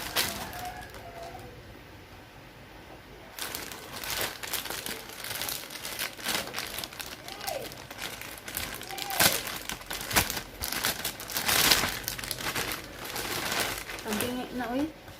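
Plastic packaging from a YesStyle order crinkles and tears as it is opened, in close, irregular rustling bursts that grow busier after a quieter start, while a person talks over the handling.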